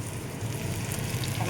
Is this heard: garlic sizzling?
yes